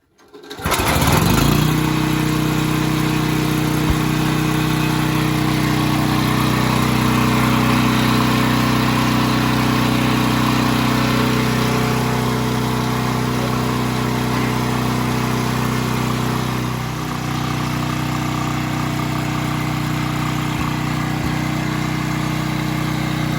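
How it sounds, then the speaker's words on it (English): A portable generator, prepared for a winter ice storm, fires up with a sharp start and then runs loud and steady nearby, its drone holding constant with a slight dip late on. "we will plug this one in after the generator is running"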